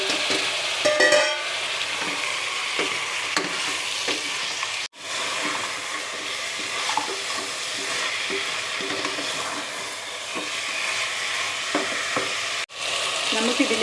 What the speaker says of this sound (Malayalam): ഇതിലേക്ക് മട്ടൻ മസാല പുരട്ടി മാറ്റി വെച്ചത് ചേർത്ത് നന്നായി ഇളക്കാം.